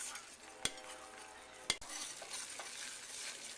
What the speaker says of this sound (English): Just keep stirring, make sure there's no lumps.